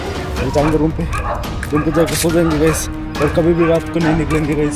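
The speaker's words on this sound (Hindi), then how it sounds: "इतना डर गए पूरा कुत्ता भौंक रहा है।" Several dogs bark and yip repeatedly outdoors at night, a loud, fairly close chorus of overlapping barks continuing throughout while a person talks over them.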